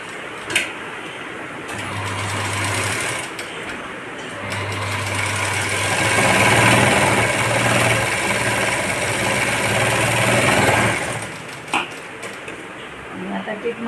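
A sewing machine runs in several steady bursts, stitching a quarter-inch seam on a patch-neck blouse for a Paithani silk sari. The motor whirs at an even pace with short pauses between runs, close and clear.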